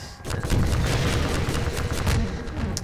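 Rocket launches against Striders in the Half-Life 2 video game, a dense, loud barrage of booming blasts and gunfire-like bursts rolling continuously for a few seconds.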